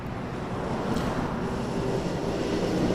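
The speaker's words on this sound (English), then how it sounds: "Airbus A220-300 coming in next. Air Canada 421 from Montreal." An Air Canada Airbus A220-300 arriving at Toronto Pearson at night gives a steady, broad engine rush with a faint tonal whine, mixed with wind noise and no voices.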